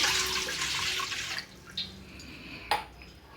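A glass of water is poured into a pot on a gas stove, giving a short close splashing gush that fades, followed by a couple of light clinks.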